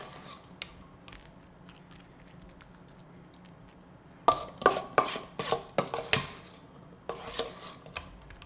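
Loaded baked potatoes, chunky and mashed, being pressed down into an oven-safe dish, giving a burst of soft irregular thuds and scraping clatters of a utensil against the dish after a quiet stretch.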